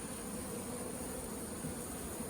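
Honeybees in an opened hive during a summer inspection, with beetles in a corner of the box, give off a steady, continuous low hum that stays even and fairly faint throughout.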